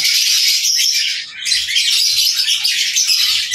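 A dense chorus of hungry birds being hand-fed chirps continuously, high-pitched and busy, with a brief dip before the chattering resumes, close by.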